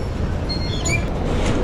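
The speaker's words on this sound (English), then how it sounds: "Now the train's here" A train arrives at a Sydney station with a steady, loud rolling rumble and thin, high wheel squeals rising briefly above it as it slows alongside the platform.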